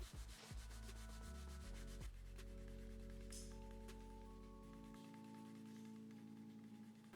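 Leather wallet edge being burnished with Tokonole, heard as steady close rubbing friction that continues throughout over a droning background hum.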